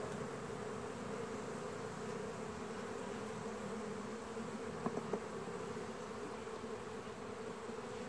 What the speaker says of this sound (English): These bees right here are a little testy.